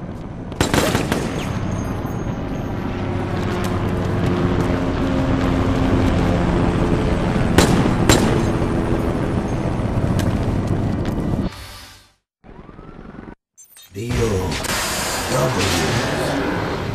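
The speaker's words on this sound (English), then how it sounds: "Sounds like a chopper." A helicopter approaches in the video game Resident Evil: Operation Raccoon City, its rotor drone mixed under loud continuous gunfire and explosions. The sound cuts out abruptly near the end, then returns.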